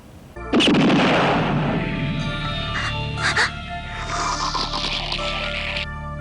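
A loud explosion from the Ninja Gaiden anime bursts in suddenly, then gives way to a long roaring rumble of fire and debris with a rising whoosh near the end.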